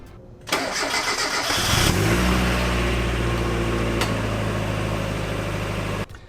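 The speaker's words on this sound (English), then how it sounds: "let's go ahead and get into the car and see if it turns on" A junkyard Mazda Miata with a new battery cranks briefly, then its engine catches and settles into a steady, rumbling idle close by, cutting off abruptly at the end.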